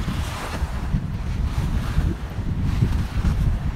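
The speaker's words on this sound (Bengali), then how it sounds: "এই যে দেখেন ঢেউগুলা" Choppy waves on the open water of the haor on the way to Mitamoin slosh and churn steadily, with heavy wind buffeting the microphone throughout and no voices.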